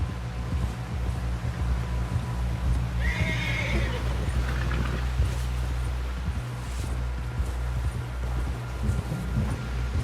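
A horse in the Red Dead Redemption 2 video game gallops with steady clip-clopping hooves over a low rumbling backdrop, and a single loud, close whinny rises in the middle.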